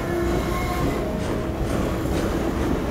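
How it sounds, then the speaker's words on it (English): Train rolling past in the video game Half-Life 2, a continuous loud rumble of rail cars with metallic wheel screeches and clattering, with no voices over it. "So it appears that razor train ended."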